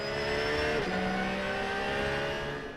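Race cars competing in the 2026 European Le Mans Series 4 Hours of Le Castellet roar past in a loud, continuous blare of engine noise with a steady high whine, close and without talk.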